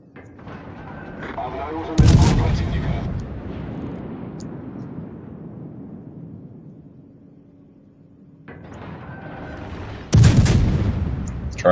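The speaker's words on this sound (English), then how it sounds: "I try and hit him from behind the island with these kind of Russian high velocity guns" Russian high-velocity naval guns firing in World of Warships, two loud booming salvos several seconds apart, each with a long rumbling decay trailing off in between.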